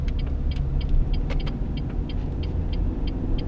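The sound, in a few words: Renault Megane 1.6 16V engine accelerating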